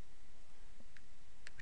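Calculator keys are pressed in a short series of faint, sharp clicks, with two or three taps spaced unevenly over a second and a half against a quiet background hiss.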